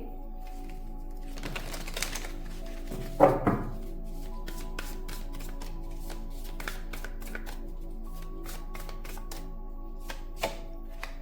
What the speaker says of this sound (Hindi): इस डेक में से ना मैं 2 कार्ड्स पिक करूंगी